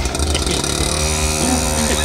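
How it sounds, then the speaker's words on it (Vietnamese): A motorcycle engine fires up and revs on a rural rice-field trail. The engine note is close and continuous, and its pitch climbs as it accelerates. "Rồi nổ máy lên giật luôn."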